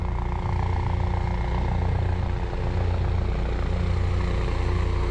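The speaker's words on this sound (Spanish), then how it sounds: "Ahí viene un helicóptero, lo voy a grabar el helicóptero porque viene muy cercano a la costa." A police helicopter flies close along the beach coastline, its steady rotor and engine drone loud and continuous throughout, with no talk over it.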